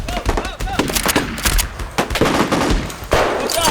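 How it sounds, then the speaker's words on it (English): Rapid bursts of toy Nerf blaster fire ring out across a forest during a mock battle game, sharp irregular pops and clatters stacking close together over a busy background, with scattered voices in between. "The forest suddenly erupts with the sound of blaster fire."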